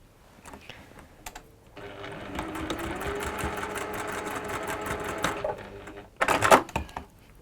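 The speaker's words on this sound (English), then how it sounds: "So you're just going to sew down there." A sewing machine stitches down a seam in fabric, running in a steady continuous buzz for about four seconds, with a few light handling clicks before and a short burst of rustling afterward.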